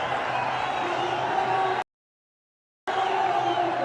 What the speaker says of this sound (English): it's got the crowd on their feet